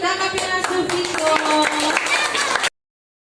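An audience at a church storytelling contest claps together in a dense, steady burst lasting a few seconds under some talk and music, then it cuts off abruptly.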